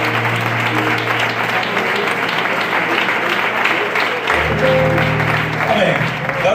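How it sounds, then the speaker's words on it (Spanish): A church congregation at a Spanish-language service applauds loudly and continuously, with a sustained tonal backing beneath the clapping that shifts partway through. "¿qué tal si a Él le damos un fuerte aplauso?"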